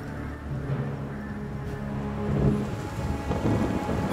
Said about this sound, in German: Ein Sturm zieht auf.